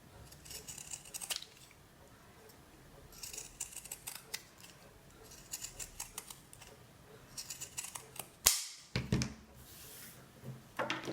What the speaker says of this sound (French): je vais cranter les arrondis avec mes ciseaux cranteurs comme ceci